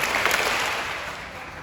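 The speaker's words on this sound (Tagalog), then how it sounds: "Ulit. 3 palakpak." A class of Grade 6 students claps in unison, heard as a dense burst of group clapping that fills the short moment and fades slightly toward the end, with no talking.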